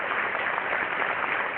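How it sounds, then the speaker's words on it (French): Steady audience applause at a comedy stage show, a moderately faint, even wash of clapping with no distinct voices. "Allez, les Algériens, vous applaudissez les Français"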